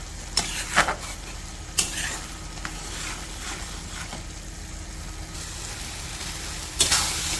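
Tomato chutney simmers in a pan in a village kitchen, with a steady watery sizzle and sharp scraping strokes from a stirring spoon at irregular intervals, close by and without talk.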